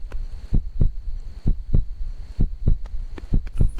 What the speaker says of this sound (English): Don't taunt me with heartbeats.